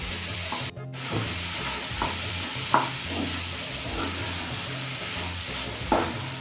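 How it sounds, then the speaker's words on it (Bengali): Boiled taro stolons being fried and stirred with spice paste in a pan, a steady close sizzle with repeated scraping strokes of a spatula, each stroke a soft rasp, and no voices. "কচুলতিটা মশলার সাথে ভালো করে কষিয়ে নেব।"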